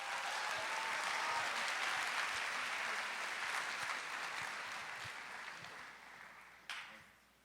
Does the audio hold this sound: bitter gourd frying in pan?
no